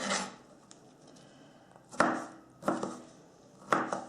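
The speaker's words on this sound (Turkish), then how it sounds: "Doğrayalım ve balıklarımızın üzerine bırakalım." Three sharp knife chops through vegetables on a cutting board, spaced unevenly and close by, with quiet gaps between them.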